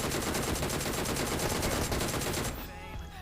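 PUBG Mobile gunfire rattles in rapid, continuous automatic bursts at close range for about two and a half seconds, then cuts off abruptly into quieter game ambience.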